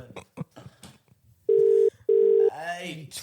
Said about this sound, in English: Don't put us on hold.